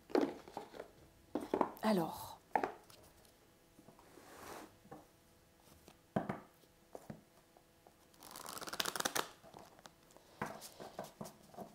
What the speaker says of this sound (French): j'ai envie de vous prendre une carte de l'archange Michael, hein, le jeu de l'archange Michael